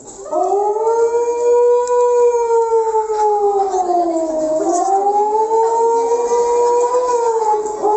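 An ambulance siren wails loud and close, its rising and falling tone sweeping slowly up and down in one unbroken cry for several seconds.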